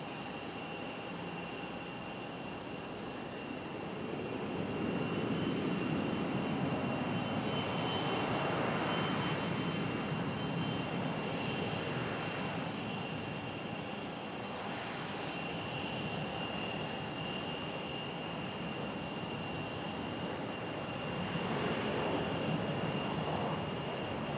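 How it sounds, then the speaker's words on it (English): A Frontier airliner at Raleigh-Durham airport during pushback, its engines giving a steady distant roar and whine that swells slightly, heard outdoors without talk. "Have another Frontier pushback here in just a moment."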